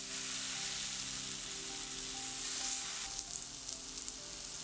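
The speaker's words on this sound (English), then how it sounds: "Put oil in frying pan on medium heat. When hot, put tofu on frying pan one by one." Tofu pieces fry in hot oil in a frying pan over medium heat, a steady soft sizzle with a few light clicks and taps toward the end, quiet and without talk.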